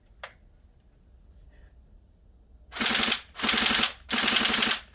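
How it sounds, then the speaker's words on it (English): Three bursts of full-auto fire from a Tokyo Marui AK Strom airsoft gun, each a rapid rattling string of close, loud shots lasting about half a second, after a single earlier click and a short quiet pause. "Now for some full auto."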